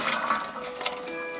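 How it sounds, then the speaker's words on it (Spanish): Blanched almonds are poured from boiling water into a strainer, a short splashing gush of draining water that swells and fades within a second or two, close and alone. "Una vez que pasaron los 2 minutos, las sacamos del agua y las colamos."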